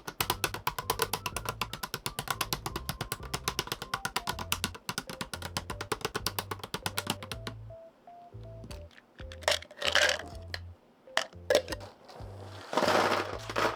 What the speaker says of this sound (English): now applying the new switches